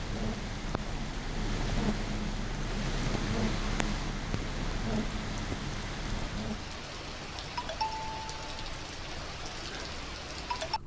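Heavy rain falls across Kodagu, a steady dense hiss of drops on surfaces with a low rumble underneath, continuous throughout, no voices.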